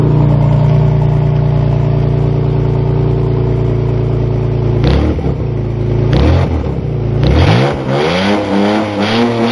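A car engine revs hard and close, climbing and dropping through several throttle blips during a check for a plugged catalytic converter, with no voices over the loud motor.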